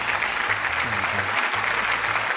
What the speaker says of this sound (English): Why don't we give them a clap and a cheer?